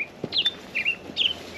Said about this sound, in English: That little bird's so loud.